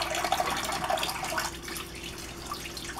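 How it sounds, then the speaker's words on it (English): Running tap water splashes over fresh bell peppers being rinsed in a kitchen sink, a steady close hiss of flowing water that thins slightly partway through. "I use the drinking water to wash it out"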